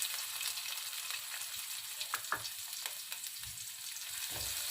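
Chopped medium onion frying in a pan with curry leaves, a steady close sizzle with a few soft stirring knocks, no voices.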